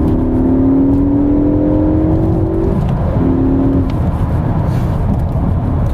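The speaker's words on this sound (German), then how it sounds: "Ich gebe im dritten Gas" A 2012 Ford Focus ST MK3 accelerates hard in third gear on a dry road, its engine note rising loud and steady from inside the car, with a brief dip at a shift before climbing again.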